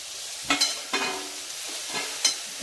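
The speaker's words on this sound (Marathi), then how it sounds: "आणि आता आपण हे चांगलं परतून घ्यायचं" Carrot, capsicum and coriander with chili flakes are sautéed in a pan for palak paratha filling, with several close spatula scrapes and stirs over a low, continuous sizzle.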